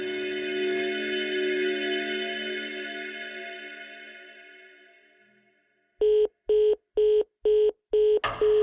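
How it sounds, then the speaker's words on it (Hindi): A fading ringing tone dies away into silence, then five evenly spaced telephone keypad beeps sound, followed by the start of another tone. "एक काम करता हूँ, फोन मिला के देखता हूँ"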